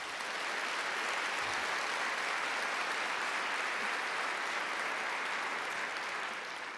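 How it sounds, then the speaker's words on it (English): A large crowd applauds student fashion designers at a 2024 fashion show, a continuous, even roar of clapping heard from a distance, sustained from start to finish without talk. "Let's give them a round of applause."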